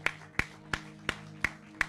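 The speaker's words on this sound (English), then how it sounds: "Give the Lord a hand clap." Six single hand claps from a church congregation fall in a steady, evenly spaced beat, each sharp and fairly close, over a low hum with no talking.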